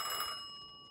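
Telephone bell ringing in the video game Mafia II, a single short electronic ring with sustained steady tones that fades out quietly, with no talking over it.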